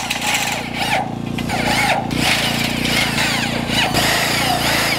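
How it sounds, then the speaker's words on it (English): Screws driven into wooden braces on a large truss, with steady power-tool whirring and rubbing across the whole clip, fairly close and loud with no talk. "Get some more screws in."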